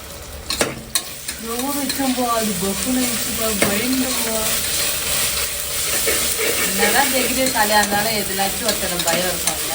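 Ginger and tomato frying for cooker biryani, a continuous close sizzle with stirring scrapes as a voice speaks over it.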